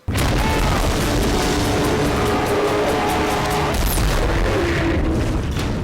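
Cannon fire from the film Tremors 4, a muzzle-loading cannon with a trigger, heard as a loud sustained boom and rumble with a crackling tail, continuous through the clip, no talk.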